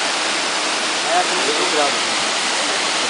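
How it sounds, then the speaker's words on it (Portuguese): The Patrocínio Amaro waterfall roars with loud, constant rushing white noise close by, while a voice speaks briefly over it. "Esta é a cachoeira de Patrocínio, Amaro."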